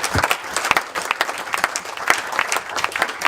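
Applause from guests at a wedding speech, a dense, steady burst of many hands clapping nearby.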